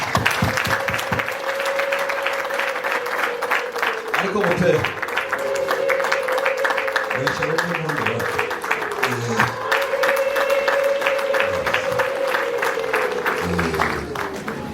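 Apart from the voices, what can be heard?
wedding guests clapping applause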